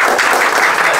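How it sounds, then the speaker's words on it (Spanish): Dense, loud applause from an audience at a DJ academy fills the space for a short burst, honoring DJ Diego Alonso, with no gaps between the many overlapping claps. "fuerte el aplauso para Diego"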